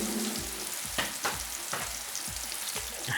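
Golden needle mushrooms deep-fry in hot oil with a loud, dense, unbroken crackle and hiss, close up, with no voices.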